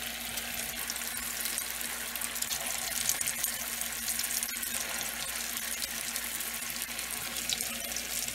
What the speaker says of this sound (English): so I'm going to get them fried till they are nice and brown